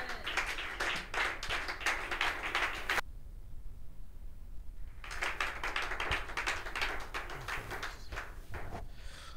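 A church congregation applauds in rhythmic clapping, crisp and fairly close, with a brief lull in the middle before the clapping picks up again; no one speaks over it.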